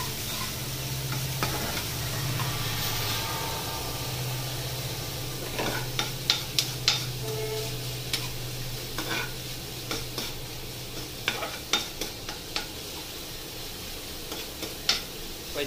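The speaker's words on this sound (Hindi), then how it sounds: "हल्की हल्की भून लो इसे।" Onion lightly frying in a pan gives a soft, steady sizzle. A spoon scrapes and clinks against the pan in scattered bursts, close up and with no talking.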